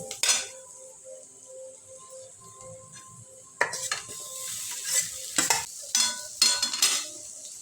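Potatoes go into a pan and are stirred, giving sharp metal spatula clanks and scrapes against the pan, first sparse and then in quick clusters, over a soft sizzle nearby.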